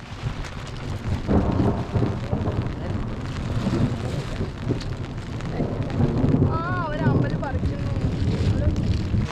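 A thunderstorm with heavy rain in Olipuram, deep rolling thunder rumbling under a constant dense downpour, loud and close throughout, while a person calls out briefly partway through.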